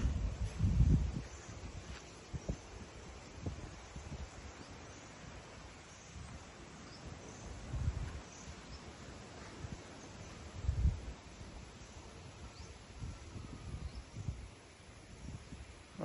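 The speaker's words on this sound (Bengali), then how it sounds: "শুধু বাতাস হচ্ছে, প্রচণ্ড পর্যায়ে বাতাস।" Strong wind buffets through a Bangladeshi village during a cyclone, coming in gusty rumbling surges with a faint rustling hiss between them, the blasts striking the microphone irregularly.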